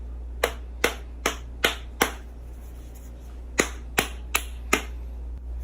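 A hardened homemade soap bar made with vinegar and set in a milk carton is knocked, giving ten sharp, dry, close taps in two evenly spaced groups over a low steady hum.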